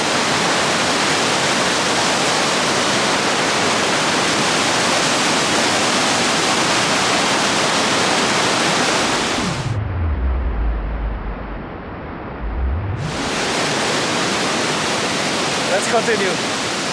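River water at Cranbrook Flower Forest in Jamaica gushing from an underground spring, a loud steady rushing roar that dips into a muffled low rumble for a few seconds before returning.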